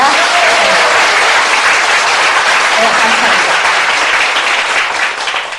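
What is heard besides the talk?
applause welcoming newcomers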